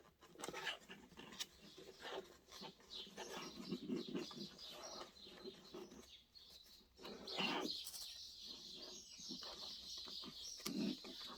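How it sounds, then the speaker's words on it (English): Birds squabbling over food at a bird feeder: faint chirps, coos and wing flutters at a distance, mixed with nearby rustling through a quiet room. "I think the birds are fighting over the food on the bird feeder."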